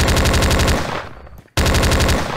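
Rapid automatic gunfire in the animated game, loud sustained bursts that break off into a brief near-silence before firing resumes just as loud, with no voices.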